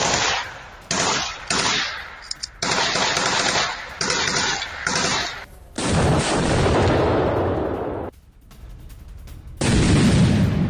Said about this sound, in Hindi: ग्रेनेड लॉन्चर, असॉल्ट राइफल से हथियार से अटैक किया गया।